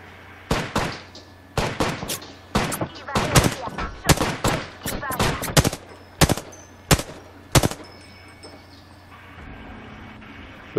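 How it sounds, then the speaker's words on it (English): Apex Legends gunfire: bursts of sharp, loud shots in rapid irregular volleys, some clustered like automatic fire and others spaced single cracks, tapering off toward the end. "Shooting over here."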